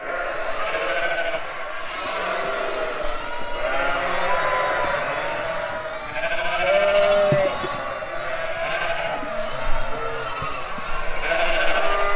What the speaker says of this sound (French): Donc voilà les agneaux